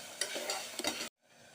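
Onions, green chilli, ginger and garlic sizzle in a pan for a vegetable sabji while a spoon stirs them, a soft close frying hiss with a few scraping strokes that cuts off abruptly near the end.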